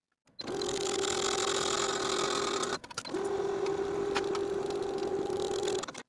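A sewing machine runs a 3/8 inch seam along the bottom of a tie-front blouse. Its hum is steady and close, with a brief pause near the middle before it picks up again and runs to the end.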